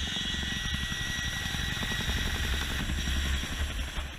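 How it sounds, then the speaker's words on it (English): A military helicopter dropping and extracting troops by rope gives a loud, steady rotor thump over a droning engine whine. It is close and sustained, with no talk. "the helicopter lifts them off the ground"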